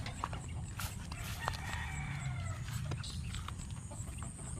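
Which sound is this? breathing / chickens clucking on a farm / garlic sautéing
chickens clucking on a farm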